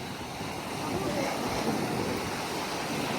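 Sea waves wash onto the shore in a steady, broad roar that swells slightly midway, with wind noise blowing across the microphone.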